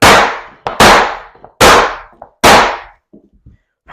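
A model train track section is pounded into place with four loud, sharp bangs about a second apart, close by, followed by faint small knocks.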